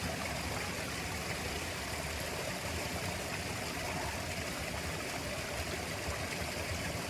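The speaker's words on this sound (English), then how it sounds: "The secret little waterfall." A small waterfall on a hill stream in the Berwyn hills of Wales, giving a steady, even rush of splashing water that stays constant throughout, fairly quiet and with no voices.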